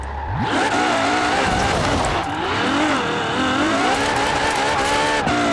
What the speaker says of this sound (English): Good burnout